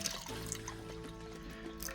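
Spring water trickles and pours into the water bowl of a hatchling snake enclosure, a faint, steady, close liquid sound in a quiet room.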